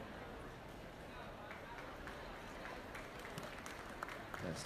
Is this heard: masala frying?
no